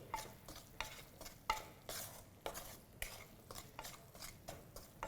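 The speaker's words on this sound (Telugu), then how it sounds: "మంచి స్టవ్ని సిమ్లో పెట్టుకొని కలుపుతూ ఉండాలి ఒక టూ మినిట్స్ అట్లీస్ట్" Masala stirred in a pan on a low flame for Telangana bagara rice with keema, a spoon scraping in an irregular rhythm of soft strokes over a faint, steady sizzle; quiet and close, with no talking.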